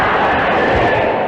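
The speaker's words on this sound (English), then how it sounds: "Not too much applause." A large audience at an AA International Convention claps in a brief, loud, dense burst of applause filling the hall.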